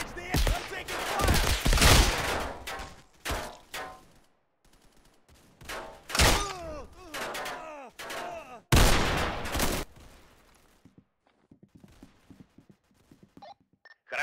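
Loud bursts of gunfire in the military shooter Unit: Classified, volleys of automatic fire separated by short pauses, fading to sparse quieter shots near the end.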